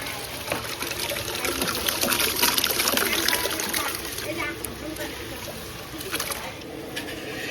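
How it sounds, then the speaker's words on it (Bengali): Rice poured into a pot of boiling water while cooking for fifty people: a steady, close splashing and trickling rush of water that holds throughout, with faint background voices. "এবার চাল দিয়ে দিই।"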